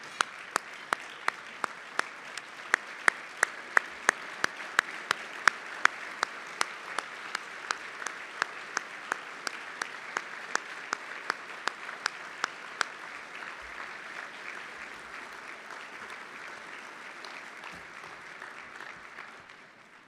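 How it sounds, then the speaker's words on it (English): Sustained applause from an audience at an awards dinner, steady dense clapping with sharp individual claps standing out, gradually thinning toward the end. "Please join me in giving Secretary Riley the rousing applause he deserves."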